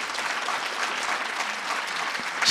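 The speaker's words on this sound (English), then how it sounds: "Can we please give her a round of applause?" An audience applauds at a national ICT summit: dense, steady clapping from a large crowd that carries evenly throughout and swells louder right at the end.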